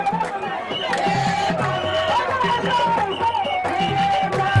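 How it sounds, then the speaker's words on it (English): A huge crowd at a UDP political rally roars and chants in a loud, continuous wall of voices, with shouted, sung tones rising and falling throughout. "resulting to huge crowds at UDP rallies across the country"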